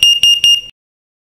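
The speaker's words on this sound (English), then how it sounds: "you will hear an audible alarm from the appliance such as this" A carbon monoxide detector alarm on a gas appliance gives three sharp, loud, high-pitched beeps in quick succession, then stops, close by in a quiet room.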